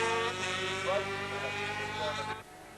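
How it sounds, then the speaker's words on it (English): Small 125cc racing motorcycles hum past on Conrod Straight at Bathurst during a 1986 race, a sustained high-pitched engine drone with shifting tones that fades away toward the end, with a commentator talking over it. "Listen to those little 125s humming down Conrod Straight as they come down towards the pit area near our commentary point"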